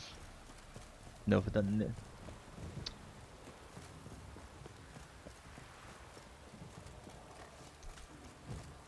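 Roach, a horse in Witcher 3, clops briefly on hooves in one short burst, then fades under quiet game ambience while someone talks over it.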